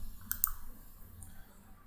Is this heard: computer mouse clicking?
yes